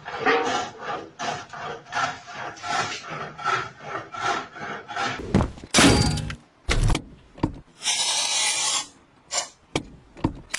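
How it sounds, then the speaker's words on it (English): Wood turned on a homemade foot-driven lathe gives a steady run of rhythmic rasping scrapes, then louder bursts of rubbing and knocking toward the end, with no talking. "This homemade lathe is designed for wood processing and is driven by a foot drive."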